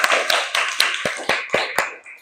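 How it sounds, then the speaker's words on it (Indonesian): Quick, evenly spaced claps, about four per second, ring out sharply and close by in a classroom as a student is applauded for topping the points ranking. "Tepuk tangan dulu buat Husnaini."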